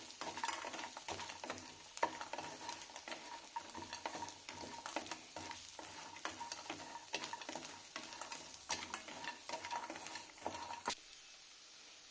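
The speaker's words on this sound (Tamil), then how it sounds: "இப்போ நம்ம ஃப்ரை பண்ணி வச்சுருந்தோம்ல இட்லியை இந்த இதில் போட்டுக்கலாம். நல்லா வதக்கி விட்டுக்கோங்க" Fried idli pieces are tossed and stirred in a hot pan, quick rhythmic scrapes and clinks of a spatula over a soft sizzle, close and fairly quiet, with no speech.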